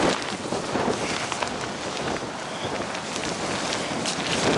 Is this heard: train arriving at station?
no